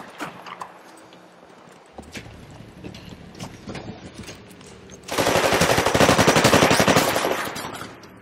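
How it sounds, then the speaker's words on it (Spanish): Rapid automatic gunfire rattles in the video game Titanfall, first in scattered bursts among mechanical clicks, then a loud sustained stream of fire lasting several seconds. "Yo le disparé primero y ese tipo estaba muerto"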